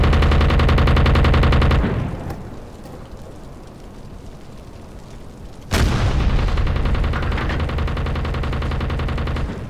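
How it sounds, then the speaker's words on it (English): Sustained heavy gunfire from the U-boat game UBOAT: loud continuous automatic fire, a brief drop to a rumbling pause, then the firing resumes at full intensity for several seconds. "Taff, shoot him!"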